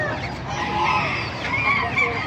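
A Talisay gamefowl rooster, about a year old, clucks and calls several times against a busy, noisy background, fairly close and moderately loud.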